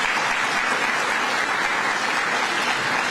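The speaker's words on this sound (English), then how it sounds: "let's give a round of applause here" An indoor crowd at a government announcement on paid parental leave applauds for union leader Fred Kowal, a steady, loud wash of clapping throughout.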